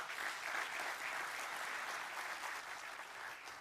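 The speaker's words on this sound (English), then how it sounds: "I think that deserves a round of applause." Audience applause fills a conference hall at a sustainable-tourism investment summit in Africa, a steady, dense wash of clapping from many hands, loud and sustained without a break.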